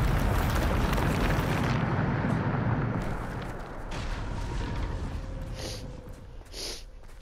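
A Bombarda spell blast in Hogwarts Legacy erupts as a loud, broad roaring explosion that rumbles and decays over several seconds, with smaller debris crackles and a couple of brief bursts near the end.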